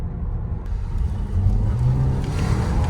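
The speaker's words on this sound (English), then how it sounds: "that was quite a quick launch, and we got wheel spins" A new Hyundai Kona makes a quick launch with wheel spin, heard from inside the cabin as a rising engine rumble and whir that swells midway and holds steady.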